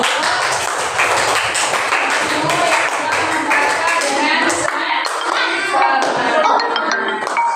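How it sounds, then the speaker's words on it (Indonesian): A class of fifth-grade pupils claps hands together in a classroom, a dense run of sharp, close claps lasting throughout, mixed with children's voices and light clinks. "Tepuk tangan dulu."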